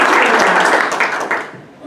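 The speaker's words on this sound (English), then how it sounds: "one more round of applause for our panelists and for our fantastic" Dense round of audience applause at a housing and healthcare panel, loud and sustained at first and then thinning and fading toward the end.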